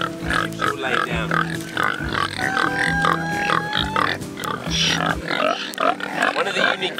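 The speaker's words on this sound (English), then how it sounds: "One of the unique things about kuni kuni pigs is how docile and friendly they are." Kunekune pigs at a nature park in Barbados grunt in a run of short, low, repeated bursts, close by, while a person talks over them throughout.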